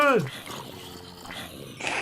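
A Minecraft dog gives a sharp descending whimper, then short yelps sound under excited voices of players talking close by.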